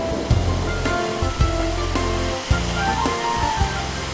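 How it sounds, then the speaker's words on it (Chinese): Twin Falls pour steadily in a Vancouver forest near a tall suspension bridge, a continuous rushing roar of falling water with faint tonal sounds layered on top. "那个瀑布， 两个，它有 twin falls"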